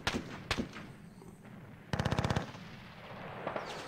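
Gunfire in the wargame Panzer Battles North Africa 1941, aimed at flak vehicles: a couple of single sharp shots, then a rapid burst of about ten evenly spaced machine-gun rounds, fairly loud, with a quieter shot near the end.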